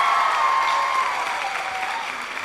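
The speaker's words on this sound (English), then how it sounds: "How's about we give Chimano another warm round of applause?" A live storytelling audience in Nairobi gives a warm round of applause, steady even clapping under a faint high tone, continuous for the whole stretch with no voices on top.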